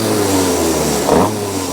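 A small kart engine running on a borrowed carburetor after fuel was added to the bowl, a loud mid-pitched motor holding a steady note with a brief rev surge near the end.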